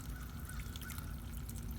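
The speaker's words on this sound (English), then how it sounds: "So here is the waterfall itself" Backyard turtle pond waterfall pouring steadily over rocks, a continuous close splashing trickle with low rushing water underneath and no voices.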